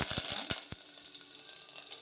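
Mustard seeds and cumin hit heated oil for a chayote kuzhambu, giving a steady soft sizzle with a few sharp crackling pops early on, close and moderately quiet with no talking.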